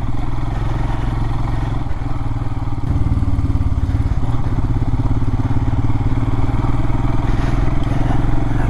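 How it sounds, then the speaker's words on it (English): BMW 850 GSA adventure motorcycle engine droning steadily and loudly throughout an off-road ride, heard close from the rider's position with a constant low rumble and a slight rise partway through. "Barry in front of me there, riding the 850 BMW, I think it's an 850F GSA."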